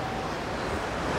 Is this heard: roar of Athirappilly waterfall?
yes